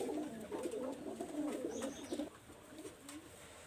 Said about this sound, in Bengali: ভিউয়ার্স, এই দেখেন এখানে একটা পেয়ার আমি কবুতর দেখাচ্ছি আপনাদের